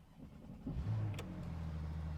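A Porsche 911 (991.2) engine cranks and catches, then settles into a steady low rumble close by, with a brief sharp click partway through.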